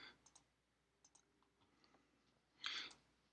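A few light, sharp computer mouse clicks spaced irregularly in a quiet room, with one slightly louder click cluster near the end.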